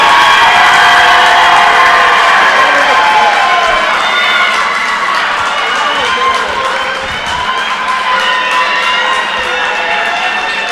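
Crowd cheering and clapping in a high school girls' basketball gym on a senior night, loud and continuous with high whoops and shouts over the applause throughout.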